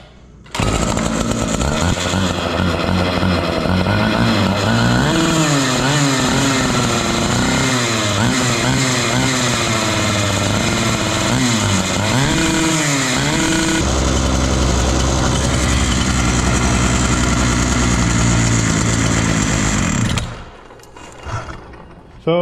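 A rebuilt Husqvarna K960 gas cut-off saw runs loud and steady up close, its two-stroke engine rising and falling through throttle blips with some wavering before settling into a rough idle, then cutting off near the end.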